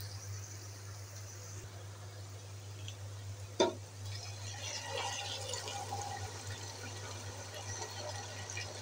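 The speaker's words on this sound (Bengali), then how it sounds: "এখন দিয়ে দেবো পানি।" Water is poured into a pot of beef biryani with rice, a faint trickling and splashing over a low steady hum, with a sharp knock partway through.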